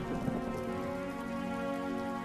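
Steady rain pours down in an animated Hindi farm story, a continuous patter layered with soft background music and no speech.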